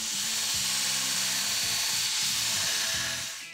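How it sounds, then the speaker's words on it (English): Belt grinder grinding down a stack of steel Kant-twist clamp parts clamped together, a loud continuous high abrasive hiss with steady motor hum throughout, fading slightly at the end. "We'll grind these down to the scribe lines, keeping as consistent as I can while we have them all clamped together."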